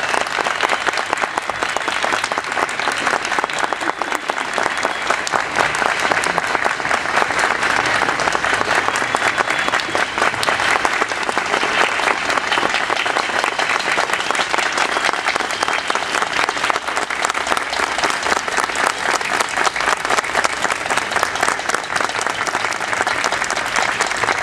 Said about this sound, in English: please join me in a round of applause to thank him and welcome him onto the stage